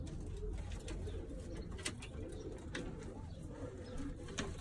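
Young Birmingham Roller pigeon squeakers coo softly and steadily over low background hum, with a few faint chirps among them.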